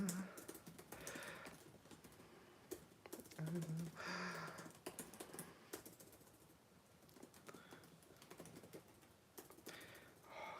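Fingers tap quickly on a computer keyboard, a close, quiet patter of irregular keystroke clicks in bursts with brief pauses between.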